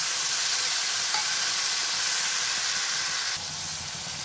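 Ground chili and mustard paste added to hot oil left from frying hilsa, tempered with nigella seeds, sizzling in a dense, steady hiss that drops slightly in level near the end, close, with no talking.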